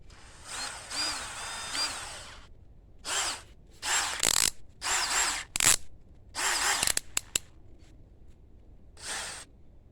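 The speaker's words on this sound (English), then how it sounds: "I'm going to do a pilot bit before I do my regular size" A power drill drilling a pilot hole in a metal bolt whirs in repeated bursts of a second or so, starting and stopping with short pauses between, close and fairly loud.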